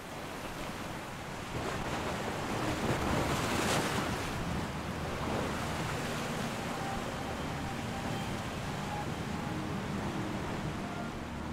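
Powerful ocean waves break on the rocky shore at De Hoop, South Africa, with a steady roaring wash that swells into a louder surge early on. Wind rushes over the microphone throughout, and no voices are heard.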